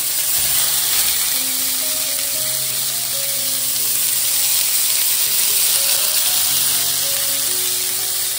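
Soft boiled potatoes frying in butter in a pan, a loud steady sizzle and hiss running throughout with faint low tones underneath.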